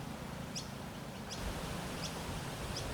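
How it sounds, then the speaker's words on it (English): Birds in a forest give short, faint, high chirps spaced about every three-quarters of a second over a steady background hiss. "listening to the birds that call this place home"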